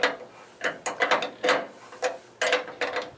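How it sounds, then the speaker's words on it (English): A Harbor Freight 13 mm ratcheting wrench clicks on a bolt while a tailgate assist kit goes onto a 2010 Ram 2500 Mega Cab Cummins. The ratchet sounds in quick, repeated bursts of close, rattling clicks. "Using my Harbor Freight wrenches, or Harbor Freight long wrenches."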